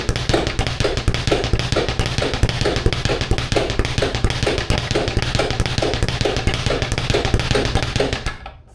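A speed bag is punched rapidly on a portable stand, giving a loud, continuous rattle of fast rhythmic taps and rebounds that runs for several seconds before it stops abruptly.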